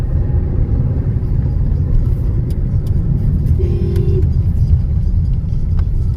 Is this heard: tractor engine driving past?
yes